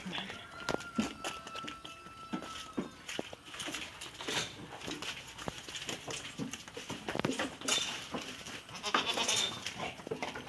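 Several goats bleat repeatedly at close range amid shuffling hooves and rustling, with people talking now and then in the background.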